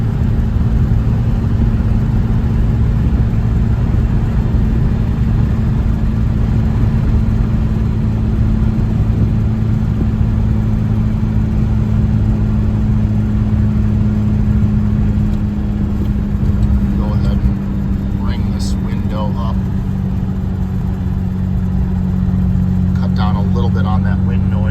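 Steady drone of a 1956 Jaguar Mark VII cruising at road speed, a low engine hum under continuous wind rush with one window down, while a person talks intermittently.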